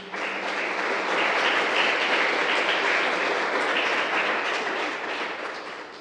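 A church congregation claps together for its pastors, a dense and continuous wash of applause that rises quickly, holds steady for several seconds and eases off slightly at the end.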